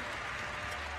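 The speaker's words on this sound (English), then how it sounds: "Elena Richter, give her a big round of applause." Audience applause for archer Elena Richter at the Vegas Shoot 2020 recurve women's championship shootdown, a steady dense wash of clapping over a brief second with no pause.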